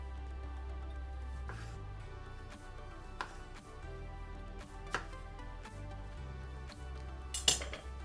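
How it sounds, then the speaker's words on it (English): A sharp knife halves cherry tomatoes on the vine on a board, giving scattered soft taps and clicks at close range over a low hum, ending with a brighter clatter, with no talking. "take a few cherry tomatoes. I like them when they're cooked on the vine because you get that extra flavour. And just halve them using a sharp knife"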